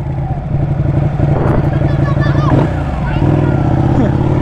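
A Ducati motorcycle engine rumbles loudly up close, revving in rising and falling surges while people chatter nearby.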